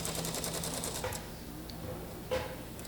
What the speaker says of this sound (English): I'm going to sew my very first seam